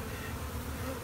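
Bees swarm close by in a continuous, dense buzzing drone that fills the short moment evenly and carries no voices over it.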